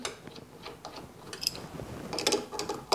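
Faint ratcheting and small metallic clicks as a mirror extension is threaded into a Victory motorcycle mount, quiet and close with light scraping ticks.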